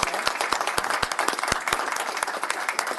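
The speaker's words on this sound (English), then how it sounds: "I was just going to applaud." Scattered applause in a Board of Supervisors meeting room, a few people clapping at once with sharp, uneven claps that carry through three seconds at moderate level with no talk.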